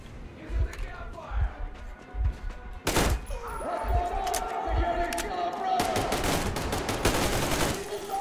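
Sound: double barrel shotgun firing in Metro Exodus video game

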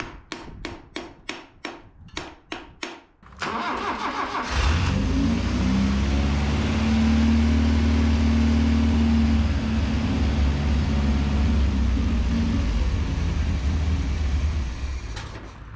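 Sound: 1983 Mazda B2000 engine trying to start, bad carburetor

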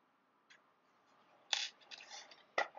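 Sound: scissors snipping crochet thread

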